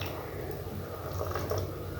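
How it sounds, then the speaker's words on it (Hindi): Water pours into a hot pan of cooking masala for moong dal mangochi, giving a steady wet sizzle and bubbling hiss that stays close and even throughout, with no talking. "और इसमें पानी शामिल करना है"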